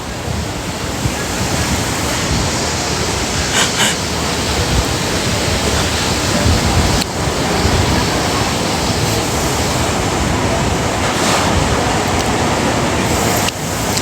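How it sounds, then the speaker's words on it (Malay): Strong beach wind buffeting a microphone, a constant heavy broadband roar like crashing surf that continues without a break, with occasional faint voices underneath. "Kuatnya angin mana? Angin pantai ni lah."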